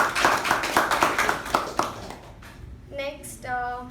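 Brief applause from a small group at a Toastmasters meeting for about two seconds, then it fades as someone starts speaking.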